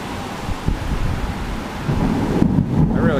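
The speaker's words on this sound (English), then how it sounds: "rain is making its way inside" A thunderstorm with rain in Bangkok rumbles low and heavy from fairly close, with steady rain hissing underneath and a rolling thunder swell building toward the end.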